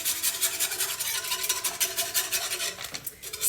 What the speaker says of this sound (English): keep whisking this.